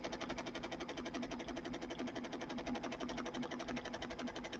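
An embroidery machine from HAPPY, fitted with a large 12 by 12 hoop, stitches out a finished-edge patch with a fast, even, continuous mechanical chatter that holds steady throughout, with no one speaking.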